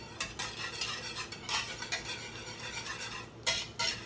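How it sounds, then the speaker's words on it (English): Plant-based gravy being stirred in a pot, soft scraping and swirling with a spoon against the pan, continuous and quiet, with a couple of sharper scrapes near the end. "We just let it boil up again, and we swirl it, we mix it."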